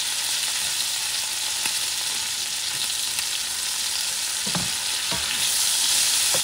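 Shrimp frying in a pan with squeezed lemon, a loud, steady, close sizzle throughout, with a few faint clicks of the pan over it and no voices.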